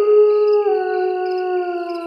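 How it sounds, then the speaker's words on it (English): Wolves howl in the Alaska wilderness of the hunting game Dangerous Hunts 2, a loud, sustained, layered chorus of steady tones with no other sounds. "You hear that? Wolves running all over around here."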